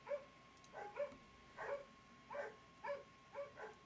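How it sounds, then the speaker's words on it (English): Faint barking from dogs at a distance, repeated in pairs and single yaps at a steady pace, with nothing else going on. "Shut up, dogs."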